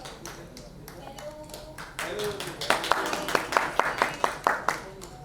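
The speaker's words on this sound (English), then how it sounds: "With a huge round of applause, let's welcome her." Rhythmic hand claps welcome an actress at an app launch event in Mumbai, ringing out at a steady pace over murmuring voices, growing clearer after a quieter, talk-filled start.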